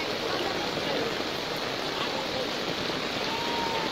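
Heavy rain pouring down in Dhangadhi, Nepal, a constant dense broadband hiss of falling water at even loudness throughout, with no breaks and no clear voices.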